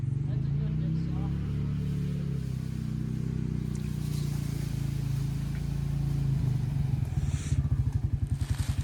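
A 2024 Can-Am Outlander Pro HD7 ATV engine drones steadily at close range, its low hum building into a rougher, pulsing rev near the end as it accelerates.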